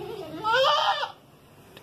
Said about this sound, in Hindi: एक ये बकरी भी है, आप देखें बच्चे के साथ